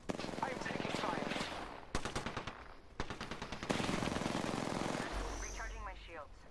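Rapid automatic gunfire from Apex Legends rattles in dense bursts, with short pauses between volleys and a quieter tail at the end. A voice is also heard.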